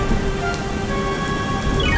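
Storybook sound effect of rain falling, a dense steady hiss of drops pattering on surfaces throughout, with faint thunder-like rumble underneath and no voices.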